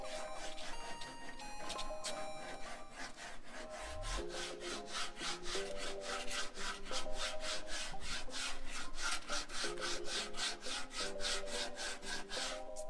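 Body filler on a truck's cab corners and rockers is sanded by hand with coarse grit, a steady run of rhythmic rasping strokes over background music.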